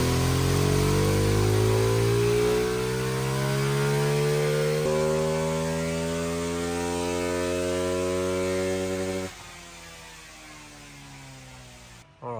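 A 2026 Ducati Hypermotard fitted with a Sprint air filter revs hard on a dyno, a loud engine note climbing steadily in pitch for about nine seconds before cutting off abruptly into a lower idle, with no talk.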